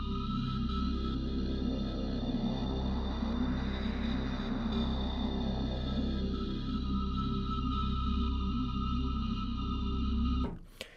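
A dark, Hans Zimmer style drone synthesized in the Vital VST, a sustained low rumbling pad with a steady pulsing texture and a rising then falling sweep in the middle, held evenly for about ten seconds before cutting off abruptly.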